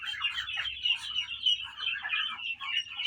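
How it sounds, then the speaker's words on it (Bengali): Eight newly hatched Chinese duck ducklings chirp nonstop, a dense, overlapping chorus of high, thin peeps close by, with no talking. "দেখুন, আমাদের চীন হাঁস অনেকগুলো বাচ্চা দিয়েছে।"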